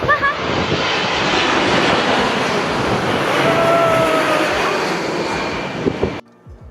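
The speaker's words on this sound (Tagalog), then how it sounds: "Ang ingay ng eroplano." Loud, steady roar of a passing airplane overhead for about six seconds, broad and droning, then cutting off abruptly.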